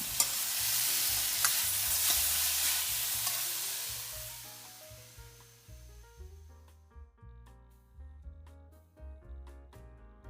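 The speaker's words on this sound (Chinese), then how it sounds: "大火快速翻炒均匀就可以出锅了" Shredded potatoes stir-fry in a wok over high heat, a loud hissing sizzle with tossing and scraping that fades after a few seconds and gives way to soft music.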